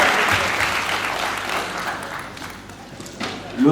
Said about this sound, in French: On applaudit pour tous les enfants.